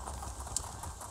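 Horse hooves clip-clopping on the ground while riding in Elder Scrolls Online, a faint, steady patter under a low background hum.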